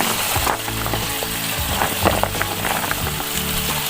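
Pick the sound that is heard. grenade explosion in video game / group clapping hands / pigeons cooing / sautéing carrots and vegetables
sautéing carrots and vegetables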